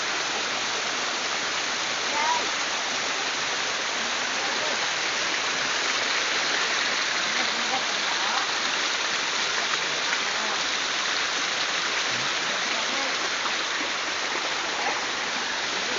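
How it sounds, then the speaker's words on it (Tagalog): Creek water flowing steadily at a stream site in Negros Occidental, a constant broad rushing wash that holds even through sixteen seconds, close and moderately loud with no clear voices over it. "Guys, hari kami sa sapa."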